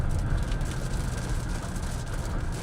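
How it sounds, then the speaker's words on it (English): Rain falling steadily during a storm chase, a dense even hiss on surfaces with low rumbling underneath, moderately loud and unbroken. "Here's the rain."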